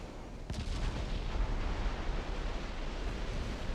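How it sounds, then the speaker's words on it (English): A torpedo strikes a warship in the naval strategy game Ultimate Admiral: Dreadnoughts, heard as a dull muffled boom that swells into a sustained rumbling roar of explosion and churning water, steady and moderately loud. "She took a torpedo hit."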